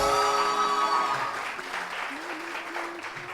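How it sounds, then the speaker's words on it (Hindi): A studio audience on a television morning show applauds steadily while sustained musical tones ring at the start and fade, leaving a textured bed of clapping for the remaining seconds. "बहुत सारी तालियां तरीम के लिए"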